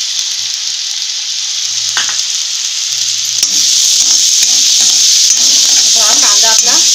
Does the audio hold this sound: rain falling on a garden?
no